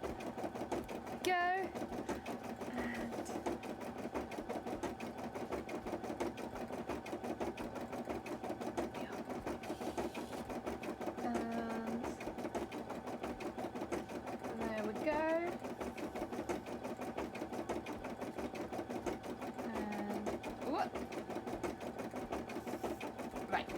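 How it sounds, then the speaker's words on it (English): An embroidery machine stitches small studs onto a cosplay piece, running as a steady mechanical whir with rapid needle chatter and repeated short rising whines throughout; a voice speaks over it. "Good job, embroidery machine."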